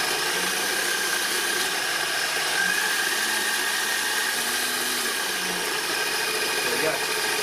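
An electric motor in an HG-P417 RC pickup truck, a 4x4 with four-wheel steering, whines as the throttle is worked, its pitch rising and falling over a steady noisy background for several seconds.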